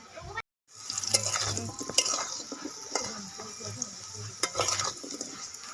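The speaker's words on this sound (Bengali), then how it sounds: "আলুগুলো ভাজা হয়ে গেছে," Potatoes frying in a pan, a continuous sizzle with scraping stirs and occasional clinks of a utensil against the pan, close up after a brief silent gap at the start.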